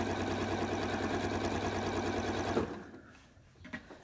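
A Janome sewing machine fitted with a quilt binder stitches quilt binding in a fast, even mechanical whir that stops abruptly after about two and a half seconds, followed by a few soft handling clicks.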